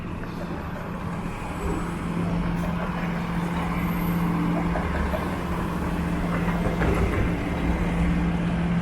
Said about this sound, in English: Here's a streetcar trying out the new tracks.